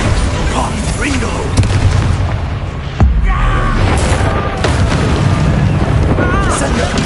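Confringo blasting spells in Hogwarts Legacy, dense and continuous booming explosions with rumbling bursts and one sharp crack, loud throughout.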